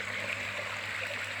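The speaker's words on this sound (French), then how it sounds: "Voilà la petite cascade qui a encore pas mal de finition." A small waterfall splashes into a homemade koi pond, a steady faint rush and trickle of falling water with no talk.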